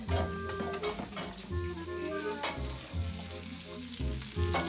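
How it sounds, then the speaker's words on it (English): Breakfast sausage fries in a pan at home, giving a steady crackling sizzle with occasional clinks and tonal kitchen noises mixed in nearby. "I'm cooking the sausage. Breakfast sausage."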